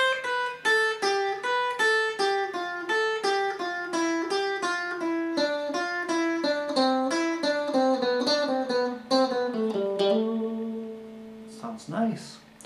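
Electric guitar solo running up and down a major scale in a four-notes-in-a-line pattern, a steady stream of single picked notes with clear attacks, alone and fairly loud, ending with a few scratchy string noises.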